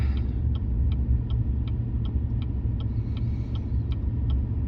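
Truck engine pulling in low gear while towing a heavy 14,000 lb trailer through a Colorado blizzard: a steady low rumble inside the cab, with faint regular ticking, like a turn signal, repeating over it.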